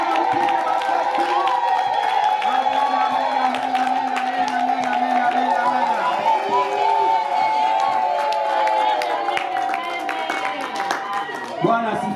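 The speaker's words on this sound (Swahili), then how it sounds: "Makofi na vigeregere, simama upige makofi." Guests at a wedding clap continuously amid cheering and high ululation, a dense festive din with a voice speaking over it.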